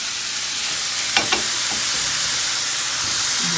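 Ground beef fries in a hot skillet with a steady broadband sizzle throughout, broken by a couple of brief utensil scrapes or taps.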